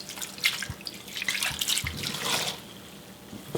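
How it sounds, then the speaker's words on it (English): Wine is poured into a pot of pork for rillettes, a continuous liquid splashing and gurgling at close range with a few soft knocks from the pot. "And then we're going to add about 2 cups of wine."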